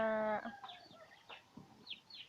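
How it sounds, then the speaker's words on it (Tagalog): A newly hatched duckling gives high, thin peeps, several short chirps spread across two seconds after a brief tonal hum at the start. "Ang cute naman ng bibing ito. Bago po siyang pisa."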